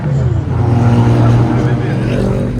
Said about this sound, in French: ils prennent en drift alors